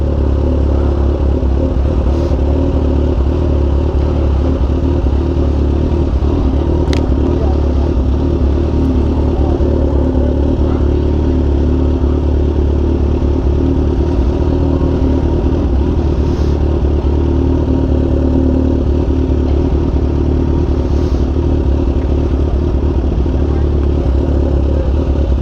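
Kawasaki Ninja H2 motorcycle cruising slowly through a large, busy car meet, its steady engine drone continuous and loud throughout, with crowd noise and clatter around it.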